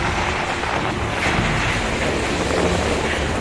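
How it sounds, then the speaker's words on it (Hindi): Strong cyclone winds during Cyclone Nisarga in Mumbai roar as a steady, loud broadband rush that buffets the microphone without pause, with no talking. "इतनी तेज हवाएं हैं कि मेरा खड़ा रहना इस वक्त इस जगह पर मुश्किल लग रहा है।"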